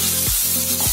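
Ginger and green chili frying in spice paste for a vegetarian navratan korma, a dense close sizzle with a couple of swishing stirs.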